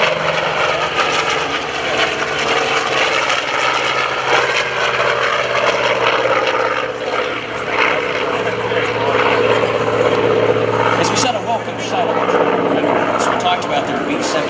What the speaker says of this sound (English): The Skyraider high overhead, performing some close air support.